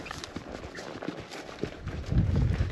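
A rescued mare moving on a cattle station in Australia, her hooves clip-clopping in an irregular series of soft, close strikes, with a louder rumbling burst near the end and no talk.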